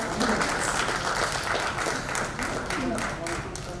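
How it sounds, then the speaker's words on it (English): A large audience at an inaugural ceremony of a technology conference in Dhaka applauds steadily as a speaker joins, a dense wash of clapping with a voice audible underneath. "A round of applause as he joins us."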